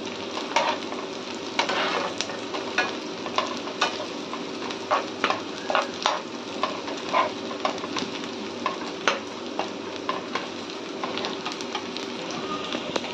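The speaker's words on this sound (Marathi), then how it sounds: "कांदा भाजायला थोडा वेळच लागतो, म्हणून त्याला परततच राहायचं" Onion fries in a pan while being stirred again and again, a steady sizzle broken by regular scraping strokes of the spoon, close up and without talk.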